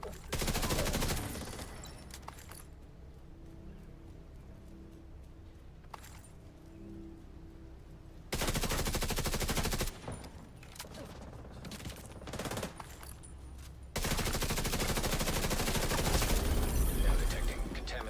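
Heavy automatic gunfire from the video game The Division 2 erupts in long sustained bursts, loud and near, separated by quieter stretches of distant shots and ambient noise.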